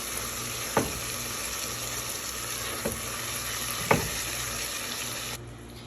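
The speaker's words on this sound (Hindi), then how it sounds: "प्याज ब्राउन हो गए, उसमें अभी मैंने डाले टमाटर" Tomatoes fry with browned onions in a pan for chole, a steady close sizzle broken by three sharp clinks of a utensil, the hiss dropping quieter near the end.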